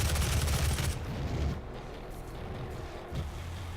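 Rapid bursts of gunfire from a weapon in the DOOM video game, loud and dense for the first second, then trailing into a lower rumbling clatter that continues fainter to the end.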